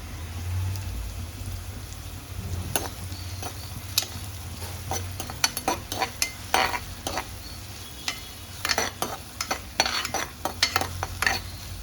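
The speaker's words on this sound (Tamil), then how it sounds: "ஒரு கருவேப்பிலை சேர்த்துக்கிறேன், ஒரு 4 இலை மட்டும்." Curry leaves go into hot oil in a pan for egg semiya, giving a continuous sizzle with scattered sharp crackles and spatters that grow busier partway through, heard close over a low background hum.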